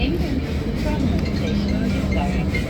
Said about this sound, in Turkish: otobüs durağı üstten metro geçiyor